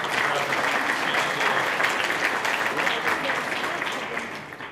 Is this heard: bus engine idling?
no